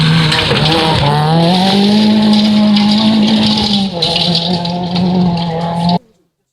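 A rally car at the Zavadka rally revs hard under acceleration, its loud, close engine note climbing and holding high for about six seconds, with a rough rattling edge, before cutting off abruptly.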